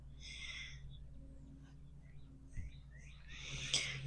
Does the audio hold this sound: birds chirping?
yes